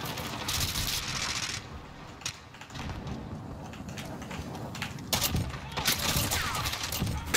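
Shotgun blasts and gunfire in Call of Duty Modern Warfare 2019 come in several loud bursts with mechanical clatter between them, one sharp shot near the middle and heavier volleys toward the end.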